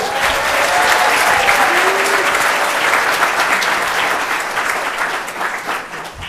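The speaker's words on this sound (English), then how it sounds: "Let's give our recipients a round of applause." A large audience applauds service pin recipients at a county employee pinning ceremony, steady dense clapping filling the room at full strength before easing slightly toward the end.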